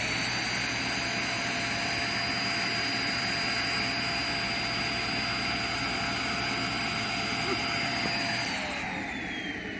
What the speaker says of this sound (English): And then we'll test the suction at the end of the hose here.